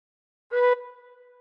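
A tin whistle sounds one short, gently blown note with all holes open, a clear, pure tone that stops after a moment and rings briefly in the room.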